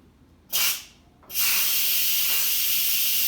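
Steam blasts from the pressure release knob of an Instant Pot cooking sausage, potatoes and cabbage: a short loud hiss, a pause, then a strong continuous rushing jet that keeps going.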